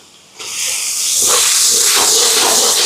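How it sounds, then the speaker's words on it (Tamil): Ginger garlic paste hits a hot pan and bursts into a loud, steady hiss of sautéing that starts abruptly and keeps sizzling without a break. "இதில் வந்து இஞ்சி பூண்டு பேஸ்ட் சேர்ப்போம் இதில் பச்சை வாசம் போய் வதங்கட்டுக்கும்"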